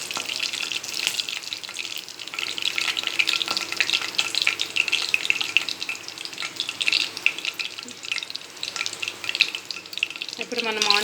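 Cumin and cardamom sizzle steadily in a hot pan for vegetable kofta gravy, a dense continuous crackle throughout, with a brief clink or stir near the end.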